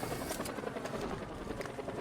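A video game helicopter plays through a PS5 controller session, a steady loud rotor-and-engine drone that fills the whole moment without a break.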